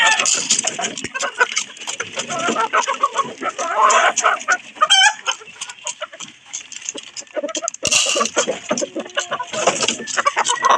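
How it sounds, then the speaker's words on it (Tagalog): Chickens cluck and squawk steadily at close range, a busy flock chattering with occasional sharp calls and a brief shrill note in the middle. "ngayon magpapakain naman tayo sa ating mga alagang manok"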